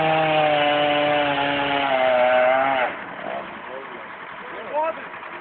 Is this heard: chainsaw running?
yes